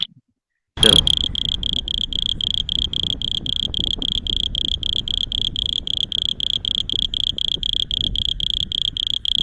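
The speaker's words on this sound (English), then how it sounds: "so that was a typical toad species" Toads of a common Deccan Plateau species call in a fast, regular pulsing trill after a short silent start, near and loud, continuing without pause for several seconds.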